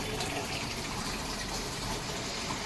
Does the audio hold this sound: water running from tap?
yes